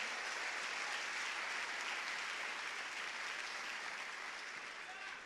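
A church congregation applauds in a steady, dense wash of clapping that holds for several seconds and tapers slightly at the end, heard from within the crowd with a few voices mixed in.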